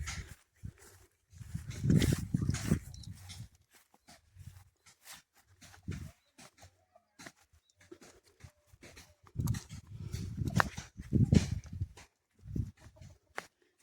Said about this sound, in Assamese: এয়া কুকুৰাকেইটা ইয়াতো চৰি আছে।